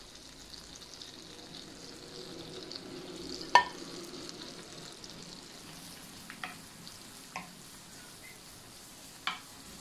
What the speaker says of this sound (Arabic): هنا ملي كتذوب الزبده كنضيف عليها بصله مقطعه قطع صغيره وجوج دروس ديال الثوم